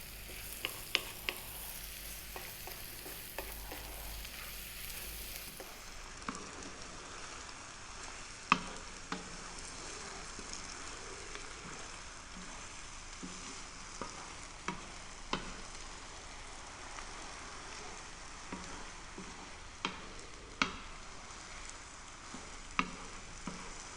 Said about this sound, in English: we're going to mix away on this medium heat until your eggs are ready